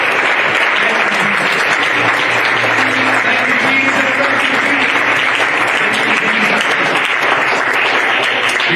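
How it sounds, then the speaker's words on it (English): A church congregation claps in praise during a Sunday morning service, a loud, continuous wash of applause lasting nearly nine seconds with a faint tonal hum underneath. "Let's give him a hand clap of praise."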